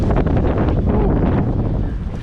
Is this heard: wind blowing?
yes